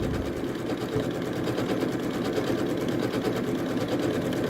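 Janome sewing machine stitching a Greek scene postcard design, a steady, fast mechanical whirr with dense rhythmic needle clatter, close and continuous throughout without any talking.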